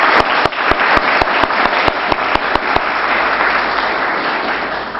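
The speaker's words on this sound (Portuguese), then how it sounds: "Pedimos uma salva de palmas" Audience applause at a Spiritist lecture week event in New York, a dense, loud sustained wash of clapping from a crowd lasting the whole stretch with a few sharp claps standing out near the start, no one speaking.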